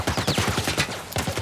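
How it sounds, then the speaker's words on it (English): Rapid automatic fire from a military turret in The Last Of Us Part 1 remake, a loud continuous burst of closely spaced shots with no pauses. "Military turret, stay down"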